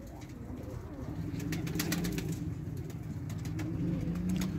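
Tumbler pigeons kept as roller show birds coo steadily in a loft, a continuous low murmur of several birds close by with faint chirps and a distant car beneath.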